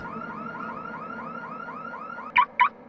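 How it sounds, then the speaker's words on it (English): A car alarm cycles through a loud, rapid, repeating warble, then finishes with two sharp, louder chirp blasts close by, with no talking. "his sleep was soon disrupted when he heard the car alarm."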